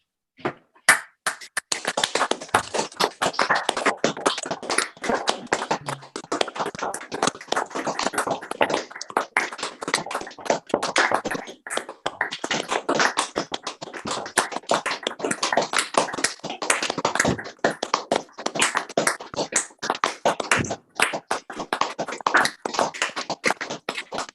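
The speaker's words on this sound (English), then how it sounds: "if we have a short session of clapping" Council members at an annual council meeting clap continuously for over twenty seconds, a dense, close ragged patter of many hands with no talk over it.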